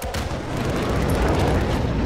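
Dense, continuous booming gunfire from a GS.50 cannon in Modern Warfare, loud and close, with overlapping blasts that blur into a sustained roar.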